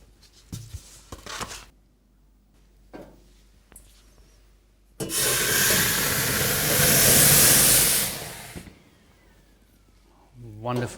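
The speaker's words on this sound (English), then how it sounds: "Wonderful steam." Steam bursts into a hot 250-degree oven as baguettes bake, a loud broad hiss swelling for about three seconds then cutting off, with quieter kitchen handling noises and a voice before and after.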